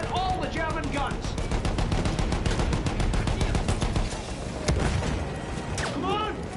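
Heavy gunfire and booming fire from German guns in the Battlefield 1 video game, dense rapid bursts and shots running throughout, with shouted voices and speech layered over the battle noise.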